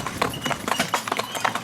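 Horses pulling a driving vehicle walk at a steady pace, hooves clip-clopping in a regular close rhythm, with a faint voice in the background.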